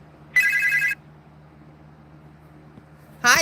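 An incoming call rings on a telephone, a loud electronic trill lasting about half a second, then near silence with a low hum, and a second ring starts at the very end.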